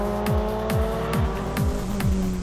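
Race cars at speed at Oulton Park in a Speed Series race, loud engines with repeated gear-shift pitch drops as cars sweep past one after another, close and continuous.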